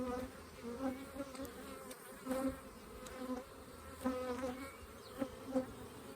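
Bees buzzing close around a hive heavy with pollen and nectar, soft droning hums rising and fading in short passes over a quiet background.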